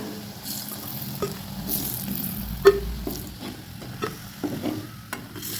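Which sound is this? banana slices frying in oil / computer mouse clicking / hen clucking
banana slices frying in oil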